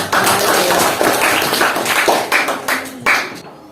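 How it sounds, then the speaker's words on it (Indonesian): Students applauding in a school classroom, a fairly close burst of many hands clapping that thins into scattered individual claps and stops near the end. "beri tepuk tangan untuk"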